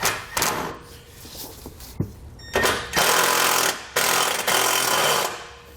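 A screw is driven through a ring terminal into the frame of a 2013 Jeep Wrangler, heard as several short, loud bursts of a power driver separated by brief pauses.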